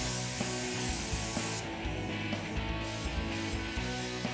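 A SATA spray gun laying down UV primer gives a continuous close hiss under a steady background hum, cutting off partway through.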